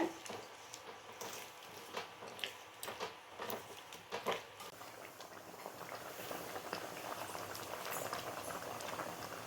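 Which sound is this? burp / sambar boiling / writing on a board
sambar boiling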